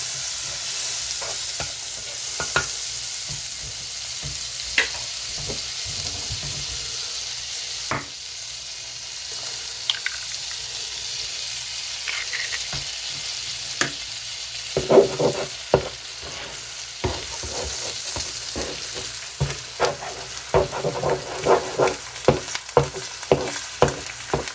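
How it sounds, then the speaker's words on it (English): An egg fries in a pan for a budget burger, with a constant loud sizzle and crackle close by and scattered sharp taps and scrapes of a utensil, growing busier toward the end, with no talking. "time to cook the egg and make our Royale Burger."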